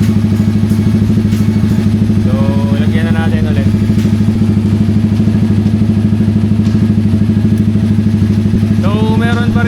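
A Sniper 155R motorcycle engine idles steadily while its coolant is bled and refilled, a loud, close, even putter with rapid pulsing, and someone talks over it in two short stretches.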